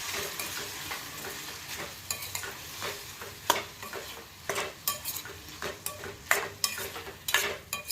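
Grape chutney cooking over the heat in a pan, a soft sizzle under frequent stirring strokes and spoon clicks against the pan that grow busier toward the end, close, with no voices.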